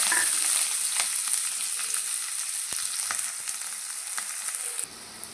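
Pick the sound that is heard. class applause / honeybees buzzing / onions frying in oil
onions frying in oil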